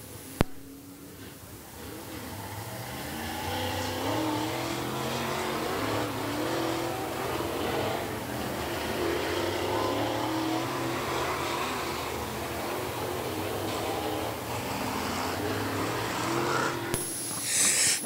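Several 602 late model race cars run hot laps at I-75 Raceway, their engines holding a loud, continuous roar that rises and falls slightly as they circle the track, with no voices.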